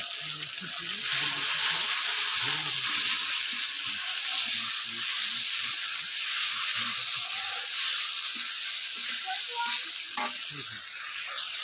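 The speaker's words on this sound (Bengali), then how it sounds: "এবার মশলাটা আমি খুব ভালো করে কষিয়ে নেব" Spice masala with salt and turmeric sizzles and fries steadily in a pan for a pabda fish curry, a continuous hiss with occasional stirring scrapes and a faint clink near the end.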